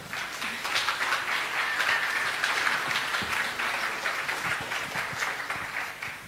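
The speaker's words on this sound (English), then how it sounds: "give a big round of applause to Cathy Morgan" An audience gives a big welcoming round of applause for a speaker taking the stage at a talk, sustained dense clapping throughout at a steady level.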